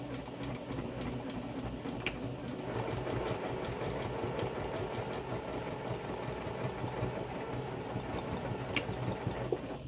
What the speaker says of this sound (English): I'm just going to go back a few stitches, back stitch, and press on